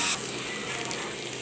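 Onion frying in ghee over a little oil hisses and sizzles in a steady, even stream, close and alone, with a brief brighter burst at the very start.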